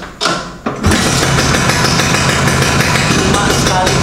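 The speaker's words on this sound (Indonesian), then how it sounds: "nih saya mau hidupin Vespa yang tahun 76" A 1976 classic Vespa scooter engine is kicked over with a couple of brief sputters, then catches and settles into a steady, loud, buzzy two-stroke running sound close by, with no talking.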